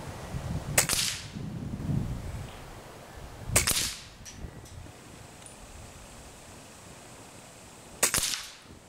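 An Air Venturi Avenger PCP air rifle fires three separate sharp, cracking shots several seconds apart, each a crisp snap followed by a short tail over faint background hum.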